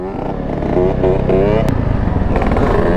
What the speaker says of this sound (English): That's that real two-stroke right there.